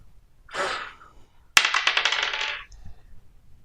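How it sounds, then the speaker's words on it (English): Dice are rolled onto a table during a tabletop Dungeons and Dragons game: a brief soft rattle, a pause, then a sharp clatter and a quick series of bouncing clicks that fades out. "Kind of just sounds like you're like blowing the dice off of your hand onto the table"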